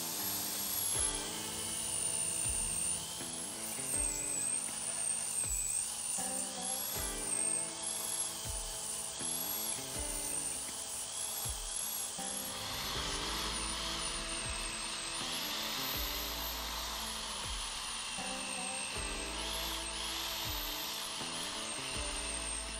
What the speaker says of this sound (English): So here, I show the cleanup with my mini belt sander.